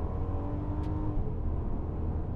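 A 2020 Mercedes-Benz GLC 300 Coupé AMG Line with a nine-speed gearbox drives along a mountain highway, its engine giving a steady low rumble and hum from inside the cabin, with no talking.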